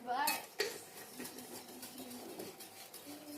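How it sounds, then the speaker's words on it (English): Whisking cream of mushroom soup in a pot produces a steady, quiet metallic scraping and clinking against the pan, with a louder clank near the start and continuous soft stirring after it. "I'm going to let you go ahead and whisk"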